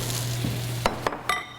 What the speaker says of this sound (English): Let's give our onions another stir.